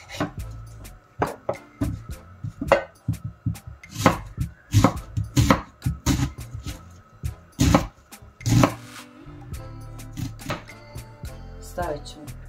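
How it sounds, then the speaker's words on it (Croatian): A knife chops onion on a cutting board while tripe soup is being prepared: sharp, close knocks in an irregular run, some in quick bursts, with a voice talking between them. "sečemo luk."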